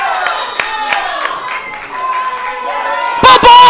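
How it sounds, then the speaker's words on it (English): Clapping and cheers from the crowd at a wrestling event, scattered claps under commentators' voices before a loud burst of crowd noise at the end. "A round of applause has erupted here at Swan Dive"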